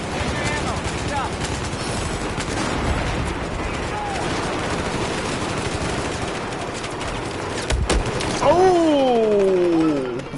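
Light machine gun fire in a Battlefield 4 battle, a dense continuous stream of rapid shots and explosions mixed with game noise, ending in a rising whine.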